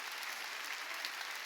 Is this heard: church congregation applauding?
yes